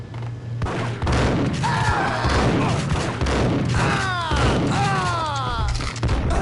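Gunfire in a game shootout, with loud, dense bursts of shots and booms running continuously, while shouting voices and whistling tones ride over the din.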